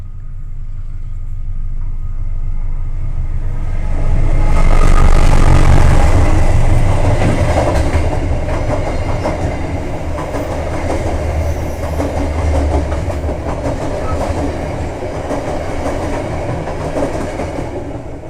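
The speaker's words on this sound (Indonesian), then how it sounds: "Sebelum itu ada iklan kereta dulu ya." A train rolls past loud and close, its steady rumble swelling and then easing, with rhythmic clickety-clack from the wheels running throughout and no voices.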